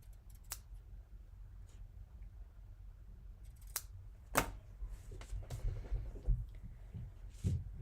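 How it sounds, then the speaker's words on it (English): Ribbon scissors trim ribbon tails in a close, quiet setting, giving a handful of sharp, crisp snips scattered irregularly over several seconds, with soft handling rustle between the cuts. "We'll use our ribbon scissors to trim these tails"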